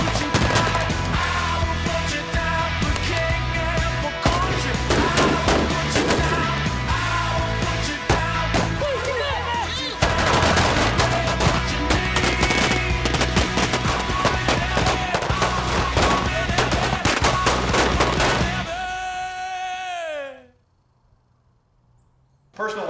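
Gunfire at a police cadet firearms training range comes as dense, rapid volleys of shots over a long stretch, mixed with loud shouting, before it stops suddenly and the sound goes quiet.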